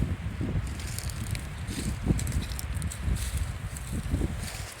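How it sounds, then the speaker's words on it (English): Wind gusting outdoors on a hiking trail, a steady rushing buffet with rustling and crackling bursts, fairly close and continuous with no talking. "It's getting windy too."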